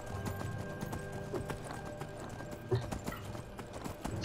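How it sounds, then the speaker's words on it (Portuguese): Horse hooves drum in a fast, steady gallop in the Skyrim video game, loud and continuous throughout with rapid repeated beats. "Vai, cavalo, vai, vai, vai."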